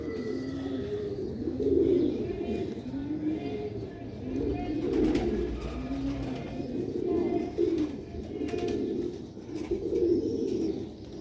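Sialkoti pearl pigeons coo in steady, repeated rolling phrases close by, a low throaty burbling that rises and falls every second or so throughout.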